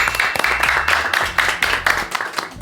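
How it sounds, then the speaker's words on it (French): A quiz team at a World Cup–themed quiz night is applauded by the audience, steady loud clapping from a crowd filling the whole moment with a few voices mixed in. "on peut les applaudir"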